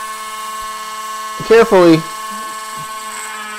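A small drill bores pilot holes in a model railroad panel, giving a steady, high-pitched motor whine throughout while a person speaks briefly over it.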